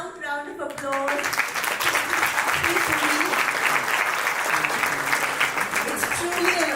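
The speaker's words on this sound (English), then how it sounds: "Loud round of applause." A round of audience applause at a book launch event swells quickly and holds at a steady, dense level, with a voice speaking briefly at the start and a faint voice near the end.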